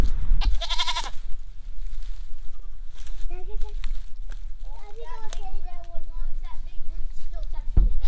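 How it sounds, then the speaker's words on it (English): Several goats on a homestead bleat in wavering, overlapping cries, some close and some farther off, with a brief clatter at the start and voices now and then. "Goats."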